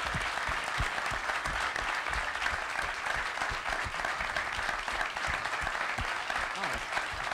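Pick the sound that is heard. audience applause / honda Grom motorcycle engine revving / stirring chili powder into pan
audience applause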